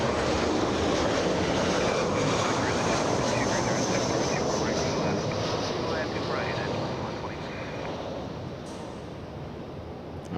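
A Southwest Boeing 737 takes off at LAX, its engines a loud, broad, continuous roar that fills the whole stretch and eases slightly toward the end.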